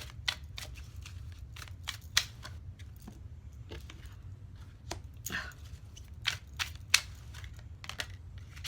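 Tarot cards are shuffled and handled nearby, producing irregular crisp snaps, flicks and riffles of card stock over a quiet low hum, with no talk.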